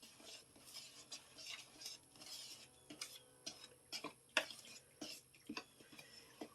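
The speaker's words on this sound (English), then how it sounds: "And I'm going to stir these together." A utensil stirs ingredients and a pinch of salt together in a bowl in a home kitchen. It makes quiet, irregular clinks and scrapes in short bursts against the dish, close by, with no talking.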